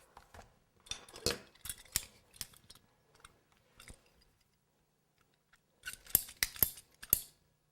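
Scissors snip a little more off a piece of cake decoration. There are quick clusters of crisp, close cuts, then a pause, then a final burst of snips.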